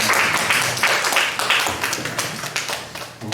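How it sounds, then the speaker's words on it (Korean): A high-school church congregation claps together in a lively burst of applause, dense rapid hand claps filling the room before fading slightly at the end. "우리 하나님께 영광의 박수 올려드리겠습니다."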